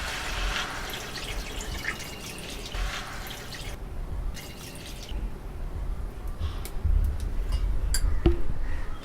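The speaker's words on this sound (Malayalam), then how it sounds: "കറിക്ക് ആവശ്യത്തിനുള്ള വെള്ളം ഒഴിച്ച് കൊടുക്കണം." Water poured into a pot of mutton curry in a home kitchen, a steady splashing and trickling stream with dripping, fairly close and continuous, with no talk over it.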